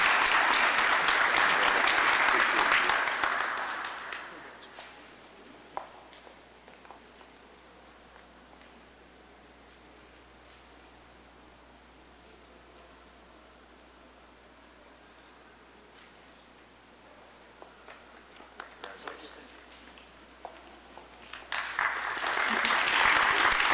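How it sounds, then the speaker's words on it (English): An audience at a community service awards ceremony claps loudly, the applause fading to a quiet murmuring hall with a few scattered claps, then swelling into another loud round at the end. "Round of applause for Ron."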